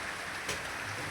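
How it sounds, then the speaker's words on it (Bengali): Heavy rain falls in a steady, dense hiss, with water pouring outdoors and drumming on surfaces. "বৃষ্টি হচ্ছে খুব।"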